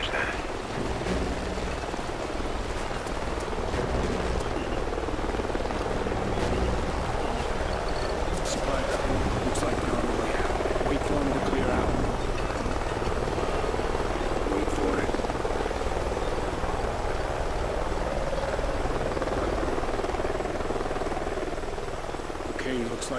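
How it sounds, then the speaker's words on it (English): Helicopter in the video game Call of Duty Ghosts, a continuous rotor thrum heard in the distance up a canyon, steady throughout beneath ambient background noise with some talk. "Sounds like a chopper's up ahead of us."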